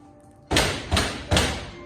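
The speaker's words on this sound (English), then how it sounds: "I hear a knocking at the sound entry" Three heavy, evenly spaced knocks on a door during a Macbeth scene, each a dull booming thud with a short ringing decay, sounding close and loud against a quiet background with no talk.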